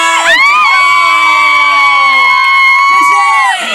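A crowd at an outdoor seaside concert roaring and cheering loudly, with high sustained shouts and whoops from many voices held for several seconds before dropping off.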